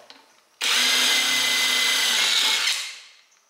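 A drill bores a hole with a drill bit in one continuous loud, high whining burst of about two seconds. It starts abruptly, holds steady, then winds down as the motor stops.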